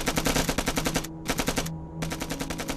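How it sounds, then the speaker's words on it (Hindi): Rapid bursts of machine-gun fire in a war film battle scene, loud and close, in three quick volleys separated by brief pauses. "ये जो फायरिंग है ये उनके बंदूक की है"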